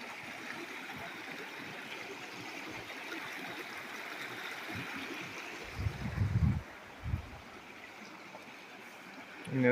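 River water flows steadily beside a nature reserve path, a continuous broad wash of moderate loudness with a few low thumps near the end.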